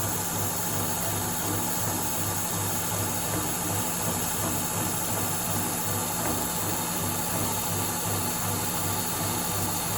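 A steady, loud mechanical whir of a Sharp milling machine with a right angle head cutting a V groove in metal, with a constant grinding hiss and faint rhythmic chatter throughout, no voices.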